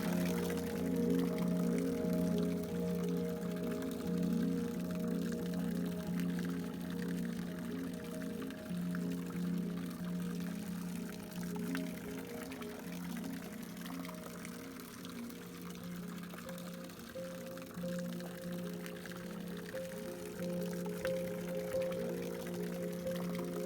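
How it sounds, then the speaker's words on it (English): A garden water sculpture in Cambridgeshire trickles and pours constantly, a soft, steady stream of falling water heard close by over a low background hum. "in the middle a sculpture, a water sculpture"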